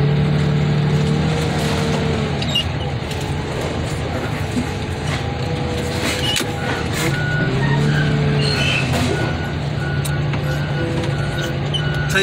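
A John Deere machine works in a car crushing yard, its engine rumbling steadily while regular reversing beeps repeat over it, with clanking mechanism noise and a hiss of air brakes.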